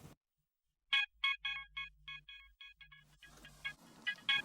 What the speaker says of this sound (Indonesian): ada telepon masuk